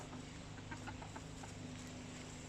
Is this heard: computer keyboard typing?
no